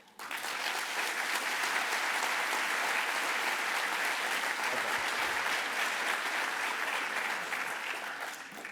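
A large audience applauds steadily to welcome Jerry Yang onto a Stanford stage, a dense, sustained wash of clapping that fades slightly toward the end.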